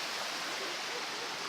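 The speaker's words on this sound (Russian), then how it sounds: "там еще водопад" A waterfall and stream at the Hotnitsa waterfall in Bulgaria give a soft, continuous broadband rush of flowing water, steady and fairly faint, with no talk.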